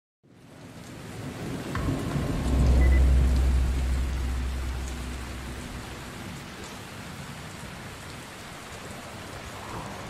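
Rain falls steadily in the video game Dying Light 2, a constant hiss joined early by a deep rolling rumble of thunder that swells and then slowly fades under the downpour.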